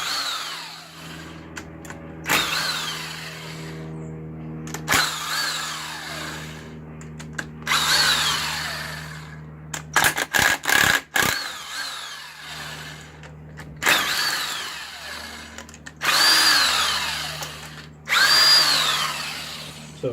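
An impact gun rattles in a string of loud, separate bursts, each a second or two long with short gaps, while removing cylinder head bolts from a Honda Civic EP3 Type R K20 engine.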